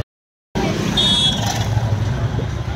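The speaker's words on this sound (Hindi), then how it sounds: "ये वाला था वेनम एग्जॉस्ट, जिसके अंदर हमने चेक करवाया।" A Royal Enfield Super Meteor 650 motorcycle fitted with a Venom exhaust rumbles at idle, loud and close, starting abruptly after a brief silence, with someone speaking over the engine.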